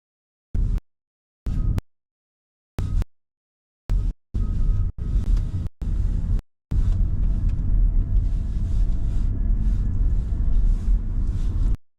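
Car engine rumbling and building under acceleration during a driving lesson on mini roundabouts, with a few short bursts at first and then a steady, continuous drone; no talk.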